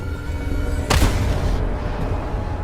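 A single sniper rifle shot in a Call of Duty cinematic, one sharp, booming report with a short rumbling tail against steady low background noise.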